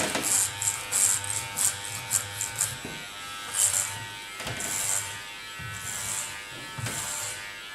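A Keone cordless hair clipper buzzes while cutting a doll's short pixie hairstyle, its close, high buzzing rising and falling in repeated short passes with brief gaps and no speech.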